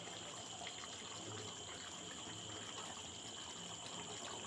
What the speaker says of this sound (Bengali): এখন অল্প একটু জল দিয়ে এটাকে ঢেকে রাখবো